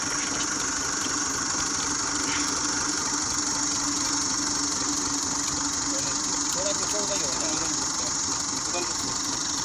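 A steady, loud tractor engine drones continuously with a low rumbling throb, no pauses, running close by during heavy wood loading onto a trolley.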